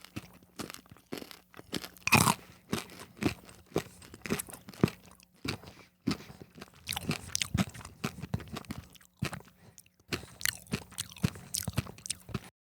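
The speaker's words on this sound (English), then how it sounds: "chewing with my mouth open a little bit to hopefully get more of the sound into the microphone" Close-up chewing of frozen, extra crispy Cadbury Mini Eggs with the mouth slightly open, loud irregular crunches and crackles of the candy shell repeating through the chewing, with no talking.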